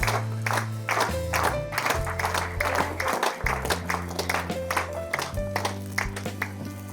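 An audience claps for a student at a ceremony, steady applause continuing throughout beneath music and a voice speaking over a loudspeaker.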